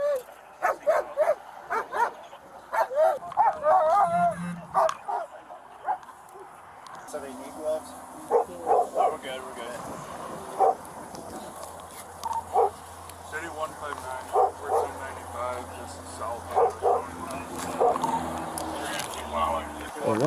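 A dog barks and yips repeatedly, close by in a car, while people talk over it and an engine-like hum runs underneath.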